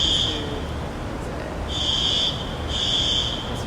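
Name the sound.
alarm sounding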